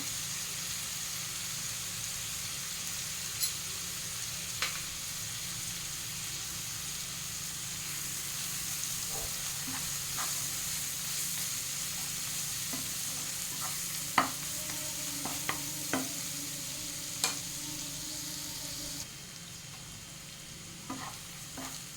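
Quiet, steady sizzle of ginger garlic paste frying in a pan, with occasional scrapes and taps of a spoon stirring, close by and without talk.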